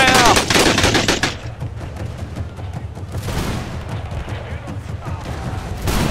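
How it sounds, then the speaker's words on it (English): Machine gun fire rattles loudly in a Mahdist War battle game at El Obeid, with a dense burst of rapid shots up front and then sustained gunfire and battle noise continuing throughout. "Get that machine gun going!"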